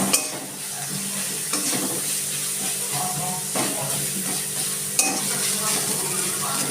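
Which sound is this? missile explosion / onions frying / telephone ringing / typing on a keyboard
onions frying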